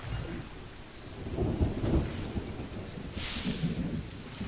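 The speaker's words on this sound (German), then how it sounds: "Und da kommt der nächste Regen." Rain and thunder from the jungle survival game Green Hell: a steady wash of rainfall with low rumbling thunder swelling through it, heard alone without any talk.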